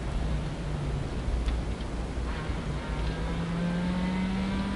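A Peugeot 106 GTi rally car competing at RS Tenneville 2023 accelerates, its engine droning loud and steady from inside the cabin, with the pitch slowly rising toward the end.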